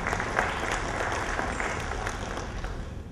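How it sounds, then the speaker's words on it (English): An audience applauds steadily and fairly loudly throughout, filling the launch ceremony of the Alternative Securities Market with dense, continuous clapping. "Please let's give him a round of applause."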